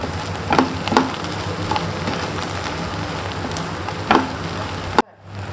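Onions fry with salt in a pan, giving a steady close sizzle with a few soft scrapes and stirs, until the sound suddenly drops near the end.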